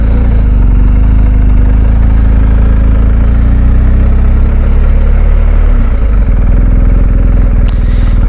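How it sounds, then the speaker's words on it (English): A motorcycle engine runs loud and close, a steady low rumble that shifts near the end as the bike accelerates away from a stop. "I'm gonna accelerate and get the bike moving"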